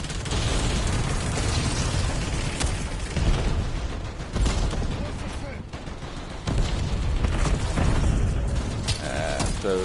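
A player's explosive gun in a shooter game sets off repeated booms and bursts within a dense, continuous wash of combat noise, while someone talks over it.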